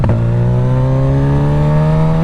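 A 2025 Suzuki GSX-S1000 motorcycle with a full Dominator exhaust revs hard, its engine note climbing steadily in pitch, then drops sharply at the end, loud and close with no voices.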